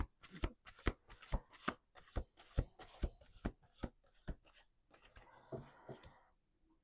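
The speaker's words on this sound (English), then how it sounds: "Let's do 2 more shuffles." Playing cards are shuffled up close: a steady series of crisp snaps, then a softer riffling cascade as the deck settles, quiet and without speech.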